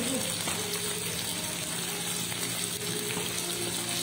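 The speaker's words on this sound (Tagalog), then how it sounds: "Deep fry. Deep fry." Dried fish (bulad) deep frying in hot oil gives a steady, dense sizzle with a bright watery hiss, close and continuous throughout.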